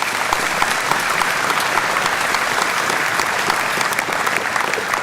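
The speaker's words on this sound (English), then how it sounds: "Let's have a round of applause." Steady, loud applause from a crowd at a Reform UK political rally in Basingstoke welcoming a councillor, sustained without letting up, with no speech on top.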